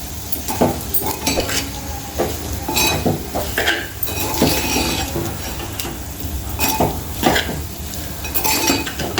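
Potato curry frying in a pan, with a constant sizzle broken by repeated scraping and clinking strokes of a spoon against metal, close and fairly loud.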